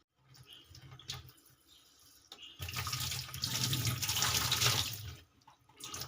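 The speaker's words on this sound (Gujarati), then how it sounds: "આપણે આ કંટોલા ધોઈ નાખીએ સરસ પાણીથી" Spiny kantola gourds are rinsed under fresh tap water, first a soft intermittent trickle with small knocks, then a louder, steady rushing stream splashing over the vegetables for a couple of seconds before easing off.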